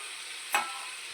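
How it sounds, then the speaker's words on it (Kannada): Bottle gourd sizzling in ghee while payasam is being made at home: a soft, steady frying hiss with one brief stirring scrape in the middle, faint and close, with no voices. "ಸೋರೆಕಾಯಿನ ನೀಟಾಗಿ ತುಪ್ಪದಲ್ಲಿ ಹುರಿಬೇಕು ಇವಾಗ"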